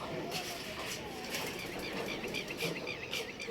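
Pigeons flying for the first time on their training flight make fluttering wingbeats as they come down near the cage, mixed with faint bird sounds and background noise.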